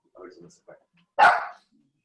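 A small dog gives one sharp, loud bark after a few softer yips and voice-like sounds, close by and short.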